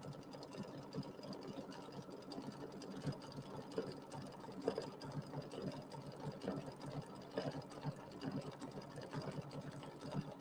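An embroidery machine sews a thick decorative stitch, a steady close mechanical rattle running continuously without pause at moderate volume.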